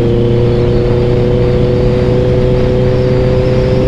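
Honda CBR650R motorcycle engine held in sixth gear at low speed, a steady loud drone with constant low harmonics running throughout, no talk.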